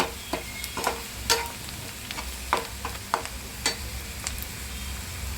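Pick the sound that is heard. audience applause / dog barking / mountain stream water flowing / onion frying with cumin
onion frying with cumin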